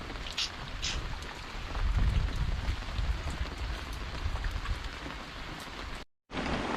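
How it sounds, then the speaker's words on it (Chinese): Heavy rain pouring during a stormy day, a steady loud wash of drops drumming on surfaces with a low rumble swelling midway and a brief dropout near the end. "看这个大雨天，这个雨啊，今天没有停的意思啊"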